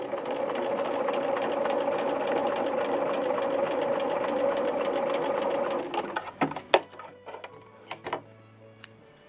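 A sewing machine stitches a quilt triangle along the diagonal, running in a steady, continuous whir for about six seconds before stopping. A few scattered clicks and handling knocks follow as the fabric is adjusted.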